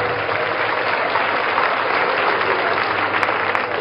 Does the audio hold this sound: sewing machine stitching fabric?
no